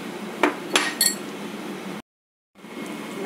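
Metal utensil clinks against a bowl while Filipino-style pork tenderloin marinade is mixed in a home kitchen, three sharp taps close together early on, then steady low background noise.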